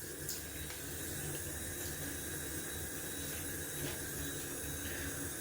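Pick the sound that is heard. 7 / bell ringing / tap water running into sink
tap water running into sink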